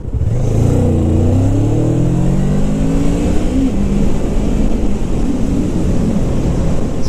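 A Kawasaki ER6f (Ninja 650R) motorcycle opening up to full throttle on a clear straight, its engine note climbing steadily in pitch and staying loud and close, mixed with heavy wind rush and no talking.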